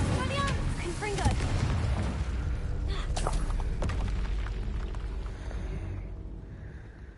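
Combat spells in Hogwarts Legacy fire in a dense, continuous barrage of booms, bursts and crackling impacts, loud and close, with a player's voice calling out spell names throughout.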